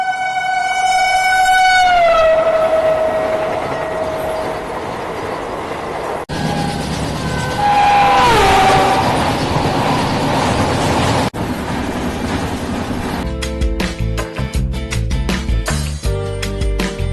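A Bangalore–Chennai Double Decker Express at KSR Bengaluru station sounds long, loud horn blasts over heavy rail rumble, then rhythmic wheel clatter as it moves. Nobody speaks.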